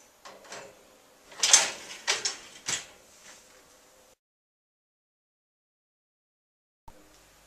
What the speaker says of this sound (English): And this is the cutlery drawer, it's also removable.